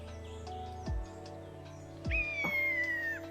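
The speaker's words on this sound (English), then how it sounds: "That's a bloody buzzard!" A buzzard call plays from a video, a couple of sharp falling notes followed by a long, high, steady mewing whistle, clear against a quiet background.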